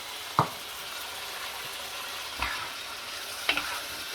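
Pad thai noodles with sauce and crushed roasted peanuts are stirred in a pan over a soft background sizzle, with three distinct scraping knocks of the utensil spaced a second or more apart.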